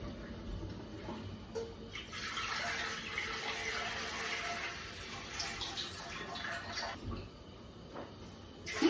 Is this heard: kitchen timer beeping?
no